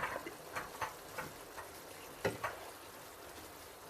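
Rice and water tipped into a pot of leeks cooking in olive oil, giving a quiet sizzle with a few soft ticks and splashes at intervals, no voices.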